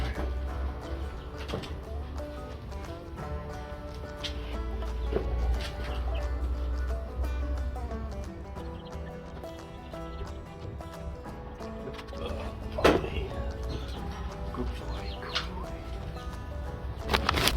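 Three-week-old Easter Egger chicks in a brooder chirp and peep continuously at close range, with occasional wing flaps and rustling.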